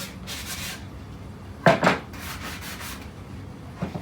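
Coarse 60 to 80 grit sandpaper rubbed over wood pieces for a potato and onion storage bin, with faint scratchy passes and one louder burst of rubbing in the middle.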